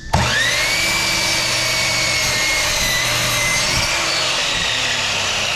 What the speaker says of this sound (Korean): 이렇게 좀 소음이 좀 심한데 이렇게 해서 제가 한번 잘라 보겠습니다.